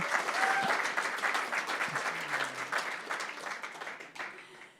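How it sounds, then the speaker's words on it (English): An audience at an evening music event gives a round of applause for the poet Rena Priest, steady clapping from many hands that slowly tapers off. "let's just have another round of applause for Rena"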